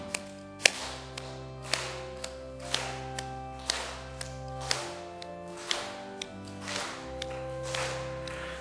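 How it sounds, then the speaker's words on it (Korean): A congregation claps in steady rhythm to a Korean church hymn (hymn 261) at a Sunday afternoon service, sharp regular claps landing about twice a second over sustained organ or keyboard chords. "박수를 치시면서 찬송 드리겠습니다"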